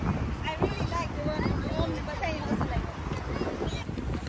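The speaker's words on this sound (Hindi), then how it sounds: "बहुत तेज हवा चल रही है" Strong wind roars outdoors in Dubai near a gold-coloured stainless steel landmark, a constant loud rush buffeting the microphone, with people talking underneath.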